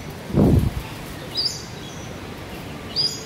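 Birds chirp outdoors at a bird habitat, with two or three short high calls spaced across the moment, following a brief rustle near the start.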